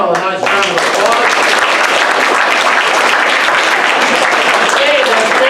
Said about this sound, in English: We'll give our whole panel a nice round of applause.